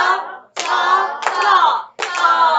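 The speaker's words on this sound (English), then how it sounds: "Okay, get ready to clap." A group claps a steady beat in a rhythm lesson, sharp claps landing under voices chanting a rhythm syllable together in short bursts.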